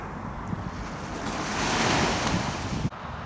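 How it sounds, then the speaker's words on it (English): Strong wind in a park by the water buffets the microphone in a roaring rush, swelling in the middle, with surf-like noise underneath and no voices. "That wind is probably making a hell of a racket"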